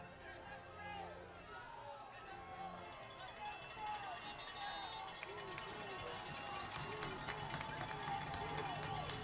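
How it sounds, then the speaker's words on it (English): Crowd noise at a high school football game between Volcano Vista and Mayfield, a steady roar of cheering and clapping mixed with shouts and distant voices throughout, rising slightly in the second half. "Looks like the crowd hopes they can change the tide of this game by the sheer noise of their applause."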